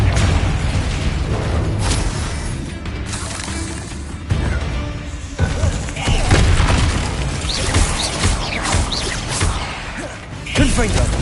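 Confringo blasting spells firing off in Hogwarts Legacy during a fight with spiders, with dense, continuous booming explosions and crashes layered over one another, loud and close, and a voice casting spells over the din.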